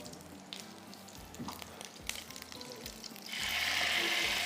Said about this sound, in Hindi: अब बस इसको लगाकर हम छोड़ देंगे बटर को, और ये आराम से फ्राई होता रहेगा।